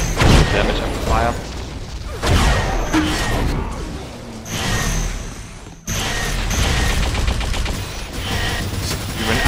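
Minigun fire rattles through a 4-on-4 team deathmatch show match between the UK and Sweden, a dense mechanical barrage with sharp bursts that continues under steady commentary throughout.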